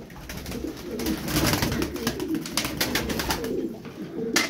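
Tumbler pigeons coo steadily and close by, soft throaty calls overlapping continuously with some wing or movement noise and no talking.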